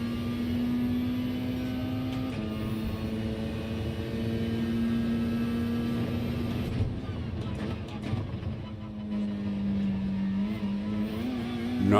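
A race car engine in a racing video game at the Red Bull Ring on a wet track after rain holds a high, buzzing drone, with pitch dropping at shifts and briefly faltering before climbing again.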